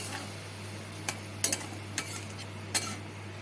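Fish cooks with spice paste and a splash of water in a pan for a bitter jhol, with a low steady sizzle and several distinct clinks and scrapes from the stirring spoon.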